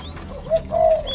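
Young French pied doves in a breeding cage give short soft coos and chirps, two brief calls close by over faint background hum.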